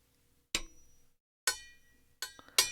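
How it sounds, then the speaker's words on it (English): Four sharp metallic taps of a metal spoon against a plastic tub of cornstarch, spaced unevenly, each with a short ringing decay, in a quiet room. "It's a metal spoon against a plastic tub"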